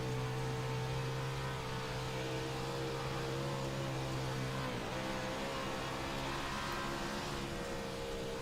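Sustained onboard engine drone of race car number 91 in a dirt-track racing simulation, a steady loud mid-pitched hum with harmonic tones that dip briefly as revs change partway through, continuing without talk.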